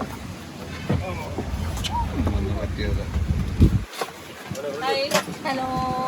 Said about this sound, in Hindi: बोट हमारी रेडी है, फैमिली बैठ गई है, मैं भी बैठने वाला हूँ।